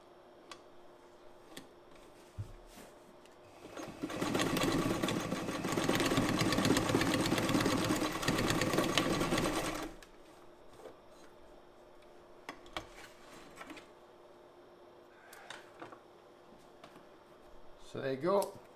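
A modified Frister & Rossmann 35 sewing machine, set up for heavy duty work, stitches through four layers of heavy sail fabric in a loud rapid burst of about six seconds, followed by quieter clicks and handling noises as someone talks.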